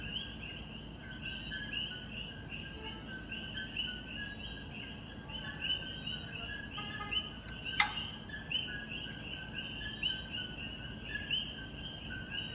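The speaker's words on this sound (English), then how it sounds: "the sound you hear are frogs" Frogs calling at sunset on Water Island, St. Thomas, a steady chorus of high, repeated chirping calls at moderate distance over a soft ambient hiss, with one brief sharp click partway through.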